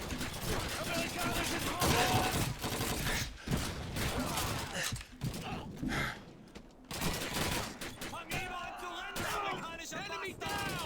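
Rifle and machine-gun fire in the World War II shooter Call of Duty 2, dense bursts of shots and mechanical clatter throughout, with voices shouting in the mix.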